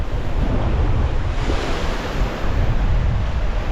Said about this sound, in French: je me retrouve avec des rafales à 45 nœuds